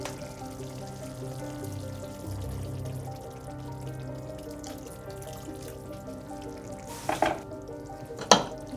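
Ingredients are poured into a pan holding chicken and salsa over a steady kitchen hum, with soft trickling and two brief, louder splashes near the end.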